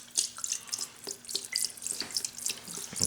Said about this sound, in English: we're going to pour some of this in here